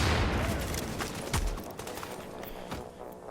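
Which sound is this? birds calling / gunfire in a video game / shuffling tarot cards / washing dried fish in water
gunfire in a video game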